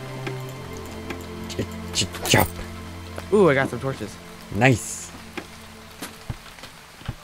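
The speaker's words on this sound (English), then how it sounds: "Oh, is it raining outside? I guess so. I guess we can hear it too." Steady, faint rain hiss falls in the video game Starbound, running beneath close conversational voices and a few short game effects.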